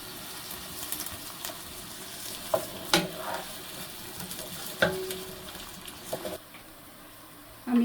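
Onions browning in oil for chola bhuna, a soft sizzle broken by several sharp spoon scrapes and clinks against the pan, fairly quiet and close, ending abruptly with near silence.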